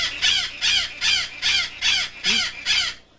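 A pet bird named Lucy squawks at another bird, seven harsh, crow-like calls in a steady, evenly spaced rhythm, close and loud with no talking.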